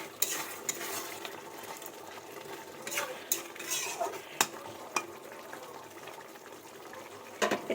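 Paneer malai being stirred gently in a pan, with soft scraping and faint sizzling throughout, a few sharper clinks of the spoon against the pan standing out near and clear, no voices.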